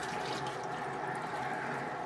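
Water drains out of a washing machine's pipe in a steady splashing, gurgling flow, close and continuous, with no voices.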